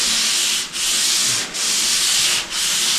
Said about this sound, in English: I just take the piece of sandpaper and use my fingers, just like this, with no pressure.